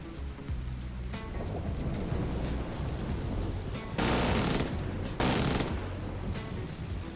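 Mounted gun firing in the video game The Division 2, with dense rapid bursts and heavy booming blasts at close range, including two very loud sustained bursts near the middle of the stretch, and no talking.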